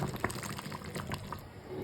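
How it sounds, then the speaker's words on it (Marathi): Water is poured into a horse gram flour curry, giving a soft, close liquid trickle and splash at low volume, with no speech. "त्यासाठी थोडं मी पाणी वाढवते त्याच्यात"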